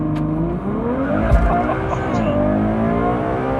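A Novitec-tuned Ferrari 812 Superfast N-Largo with 830 horsepower launches hard, its engine rising in a loud, continuous howl of climbing harmonics as it accelerates, with tire noise mixed in and voices faintly underneath.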